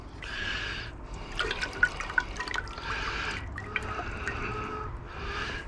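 Hot water sloshes and swirls in a container while rinsing gold powder during gold recovery, with bursts of liquid churning separated by short pauses and sharp drips and splashes.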